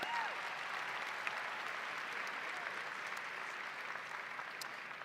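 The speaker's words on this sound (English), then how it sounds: "join me in that round of applause again for our teachers and staff" A high school graduation crowd gives teachers and staff a sustained round of applause, dense and even clapping from a large audience, steady throughout with a few faint whoops.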